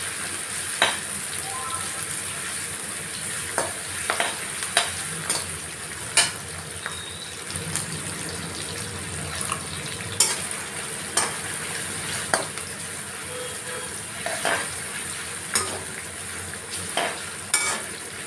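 Vegetables for desi veg Hakka noodles frying in a pan, a steady close sizzle broken by repeated clinks and scrapes of stirring throughout.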